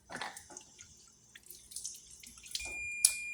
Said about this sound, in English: Now we're gonna rinse the shrimp.